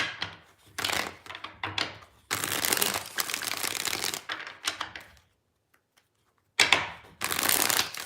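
Tarot cards riffle and shuffle in several bursts of crisp, rapid flutter, close up, separated by short pauses and one longer silence.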